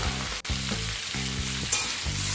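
Turmeric and chili powder sizzle steadily in oil in a frying pan, a close, continuous crackling hiss with faint stirring, and no voices.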